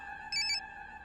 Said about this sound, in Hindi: मुक्ति कपूर का फोन।